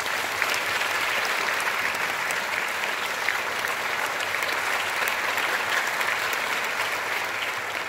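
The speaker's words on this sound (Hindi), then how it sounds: "जोरदार तालियां एक" A large audience at a ceremony honoring Mahamana Malaviya breaks into strong, steady applause that holds at an even level throughout, dense clapping with no voices standing out.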